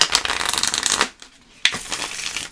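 A deck of tarot cards is shuffled by hand in two bursts of rapid riffling and flapping, close and crisp, separated by a brief quiet pause.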